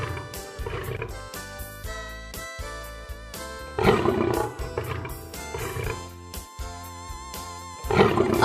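A lion's deep roars swell loudly in repeated bursts, blended with a dense musical backing that runs throughout.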